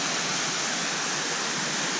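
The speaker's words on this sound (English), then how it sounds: "That is a big waterfall from top to bottom." A big waterfall on the Overland Track pours in a steady, dense roar of rushing water, loud and continuous with no other sounds.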